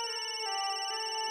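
A phone rings with a bright, steady electronic ringtone, close and clear, holding continuously through the short moment with no voices.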